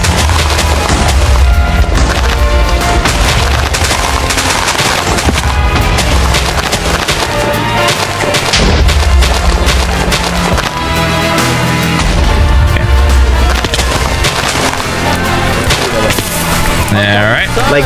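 TNT explosions in Minecraft on Bonfire Night keep going with dense, overlapping booms and crackling blasts, loud throughout.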